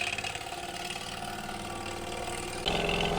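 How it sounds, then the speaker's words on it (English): A small vintage toy steam engine runs steadily up close, giving a fast, even chuffing and mechanical whir that grows slightly louder near the end. "Look at that little engine go."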